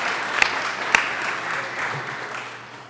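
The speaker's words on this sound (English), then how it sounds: "You can clap for that too if you wish." An audience at International House, Berkeley claps in a steady wash of applause, with a couple of sharp louder claps near the start, gradually fading.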